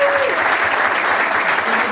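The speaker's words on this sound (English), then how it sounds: "Give Jake a big round of applause." A magic show audience claps and cheers in a steady, dense burst of applause for about two seconds, close and loud, with a faint tone briefly audible at the start.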